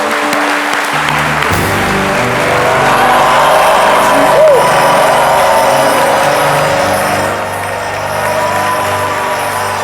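A studio audience at a midday television show breaks into applause after a second of quiet, and a steady wash of clapping fills the room with voices mixed in.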